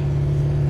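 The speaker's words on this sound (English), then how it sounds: "This is a race car on the road." A race car driven on the road gives a loud, close, steady low engine drone that holds for under a second.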